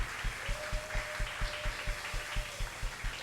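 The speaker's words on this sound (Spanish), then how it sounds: "Dale un aplauso al Señor por esa promesa." Church congregation claps in a steady, rhythmic beat, moderately close and fairly quiet, with a faint sustained tone behind it.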